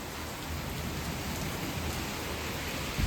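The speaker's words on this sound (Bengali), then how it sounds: "স্টিল এখনো বৃষ্টি হয়ে যাচ্ছে" Heavy rain pouring down steadily after a sudden gust, a dense, loud, continuous hiss of drops hitting surfaces with no pauses.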